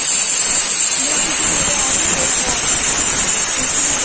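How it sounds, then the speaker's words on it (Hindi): A pressure cooker on the stove, cooking cabbage and potato sabzi for a Kashmiri-style dish, lets out a loud, steady, high-pitched steam whistle and hiss that holds unbroken the whole time, with no talking over it. "देखिए इसे सीटी आ रही है, सीटी आ रही है।"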